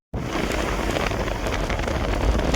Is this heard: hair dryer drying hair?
no